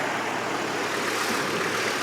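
A cold-started 2005 GMC Canyon with a 3.5-liter inline-five idles in a steady, even drone under the open hood, close and continuous with no talking.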